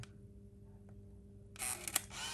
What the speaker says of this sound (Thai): ก็วิธีการถ่ายครับก็กดลงไป ครึ่งหนึ่งก่อนนะครับไม่กระพริบนะครับล็อกโฟกัสเรียบร้อยกดถ่าย